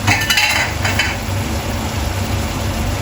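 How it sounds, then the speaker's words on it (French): A utensil stirring chili shrimp in a hot pan, with a brief burst of scraping and clinking at the start over steady sizzling that carries on alone. "On remue comme il faut"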